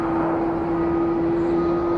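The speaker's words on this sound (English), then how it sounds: "Nothing like the sound of the jet engine spooling up." Airbus A321 jet engines spool up during landing at Phoenix Sky Harbor International Airport, a steady loud roar with a sustained whining tone, continuous for the whole stretch with no talk.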